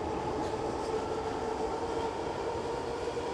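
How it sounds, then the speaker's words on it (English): A train passing overhead in Kensington, a loud, continuous rumble and roar of rail cars that holds steady throughout, close and dominant with no talk audible. "there's the train now."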